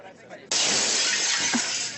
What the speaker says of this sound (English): The patient has smashed the mirror again!